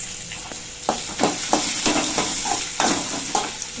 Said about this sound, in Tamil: காஞ்ச மிளகாய் சேர்க்குறேன்.